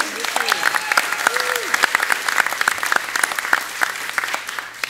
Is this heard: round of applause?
yes